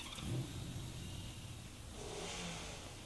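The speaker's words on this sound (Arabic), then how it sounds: "انا طبعا نجيب موتور" A motorbike engine revs in the video game Cyber Hunter, a faint, steady mid-pitched drone that swells a little partway through, distant and low in level.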